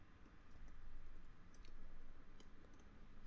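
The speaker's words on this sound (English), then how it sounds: "I really can't type today." Keys clatter on a computer keyboard in a quiet room, a light, uneven run of soft clicks and taps that pauses briefly and then picks up again.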